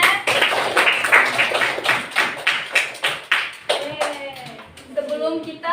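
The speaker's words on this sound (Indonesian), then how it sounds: "Tepuk tangan semuanya." Classroom hand clapping, a series of rhythmic, fairly close claps in quick bursts, followed by a voice speaking near the end.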